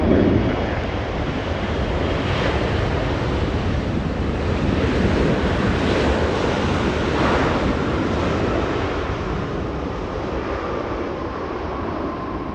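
Heavy Boeing 777 touching down at LAX, a broad, steady roar of jet engines and rushing air, loud and unbroken throughout, with no voices.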